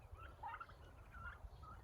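A turkey on a farm beside a barn gobbles faintly in short warbling bursts, two or three quick calls carried over low rumbling background noise, heard from a distance.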